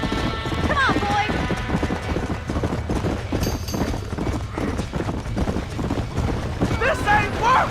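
Horses in the Red Dead Redemption video game clip-clop in a busy rhythm beside a burning barn, with whinnies and a dense wash of game noise, loud and close.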